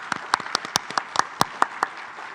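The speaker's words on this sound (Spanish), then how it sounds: "Un aplauso." Scattered, sparse clapping from a small audience, a dozen or so distinct claps spread unevenly, moderately near and fairly quiet, with no voices.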